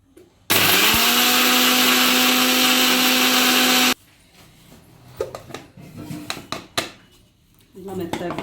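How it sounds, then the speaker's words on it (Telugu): A mixie grinder grinding sesame, coriander and cumin seeds roars loudly and steadily for about three and a half seconds, then cuts off, followed by clinks, handling noises and some talk. "దీంట్లో నువ్వులు, ధనియాలు, ఓకే, జీలకర్ర ఫస్ట్ మిక్సీ పట్టుకోవాలి"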